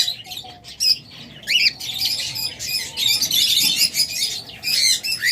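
A caged pet bird pair with eggs, offered for sale, gives repeated sharp squawks and chirps, loud and close, in irregular bursts over a quiet background.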